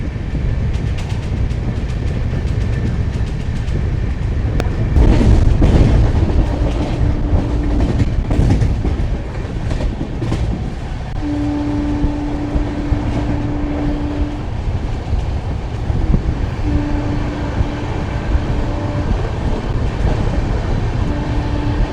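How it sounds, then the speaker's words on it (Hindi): Express train 22479 from New Delhi to Lohian Khas on a diverted route rumbles loudly at speed past skipped stations, heard from on board as a steady roar with rhythmic wheel clatter and occasional sustained tonal hums. "अच्छी तेज़ गति के साथ आगे बढ़ती हुई हमारी ट्रेन"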